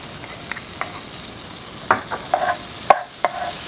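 Minced garlic sizzling and browning in a pan for a crab casserole, a soft continuous frying hiss with scattered light clicks and taps of stirring, fairly quiet and close, with no talking.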